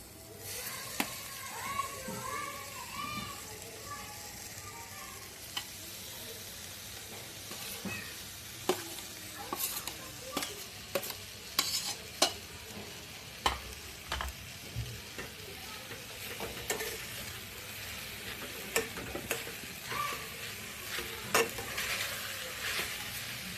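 Pieces of raw green mango stirred in a hot kadhai, soft sizzling under repeated scraping and clinking spatula strokes in an irregular rhythm, fairly faint and close.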